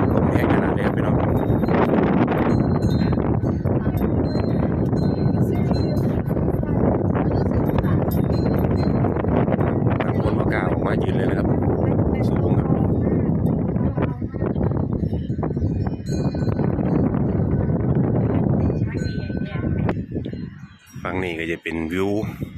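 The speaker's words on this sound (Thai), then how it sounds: "ลมแรงขนาดนี้ไปเนาะ" Strong wind buffets the ninth floor of Phra That Nong Waeng pagoda in Khon Kaen, a loud, continuous roar and rumble with gusty fluctuations, steady throughout with a brief dip near the end.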